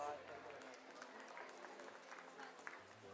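A school audience applauds at an award ceremony, with steady dense clapping heard throughout and a low hum underneath.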